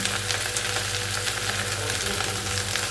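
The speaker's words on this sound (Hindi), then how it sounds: "तो ये देखिए सब्ज़ी लगभग हो गया है, 5 मिनट और भूनूँगी इसको और अच्छा कुरकुरा कर दूँगी।" Vegetable curry frying and being roasted until crisp in a pan, giving a loud, constant sizzle and crackle that fills the whole clip with no talking.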